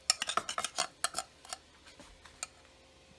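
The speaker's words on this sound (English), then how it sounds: "we take our spoon and we take the actual clams" A metal spoon clinks and scrapes against clam shells and a bowl, a quick flurry of sharp, close taps early on that thins to a few scattered clicks, quiet and without talk.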